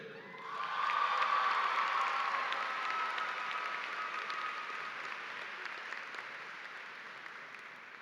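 A crowd at a high school graduation ceremony breaks into applause with some cheers and whoops, swelling quickly and then slowly tapering off, heard from a distance in a large venue.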